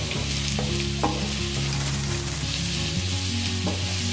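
Mushrooms and onion frying in oil in a pan, a steady close sizzle with a few scraping stirs of a spoon, no voices.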